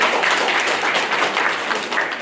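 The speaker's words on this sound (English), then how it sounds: "Another big round of applause for our panel." A short burst of steady, dense applause from a conference audience, fairly loud and continuous with no clear gaps.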